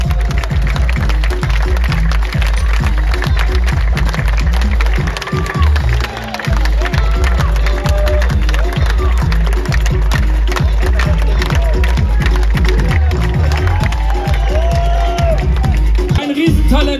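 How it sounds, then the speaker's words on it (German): A large football crowd at a Werder Bremen fan day applauding and cheering in an open stadium, steady dense clapping and whoops over a loud announcer's voice on the public address. "Zunächst mal bitte ich euch um Applaus bei seinem ersten Tag der Fans, unsere Nummer 40, Louis Lott."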